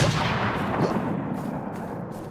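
Close, dense gunfire bursts in a PvP match on the Clearview map of a shooter game, loud and rapid at first and then tapering slightly.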